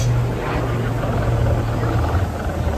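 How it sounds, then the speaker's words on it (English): A helicopter flies overhead at an outdoor raptor encounter show, giving a steady, loud rotor drone with low thumping that holds for about three seconds, with faint voices beneath it. "A helicopter."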